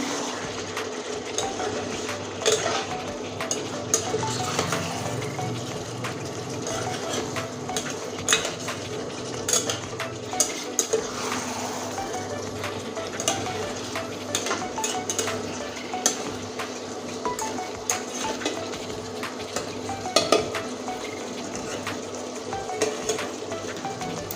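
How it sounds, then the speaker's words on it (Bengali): Fried potatoes being stirred into a chicken masala in a pot, with steady scraping and clinking of a utensil against metal over a constant sizzle of frying, continuous and close. "এখানে আছে ভেজে রাখা আলু আলুটা দিয়ে দিচ্ছি মশলার সঙ্গে"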